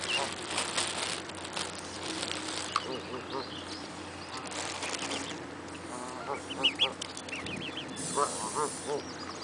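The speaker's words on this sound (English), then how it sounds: "I feel sorry for those ducks way over there, so they're getting the big bread" Ducks and geese quack and honk in a lively crowd while being fed bread outdoors, near and continuous, with people talking now and then.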